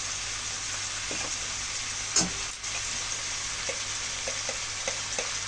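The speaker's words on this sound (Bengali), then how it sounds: "উচ্ছে আর কুমড়োগুলো আমরা এইভাবে ভেজে নেব" Bitter gourd and pumpkin pieces fry in oil with nigella seeds and salt, giving a continuous sizzle with scattered light scrapes and taps of a spatula, plus one louder clatter near the middle.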